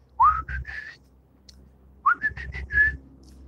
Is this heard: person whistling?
yes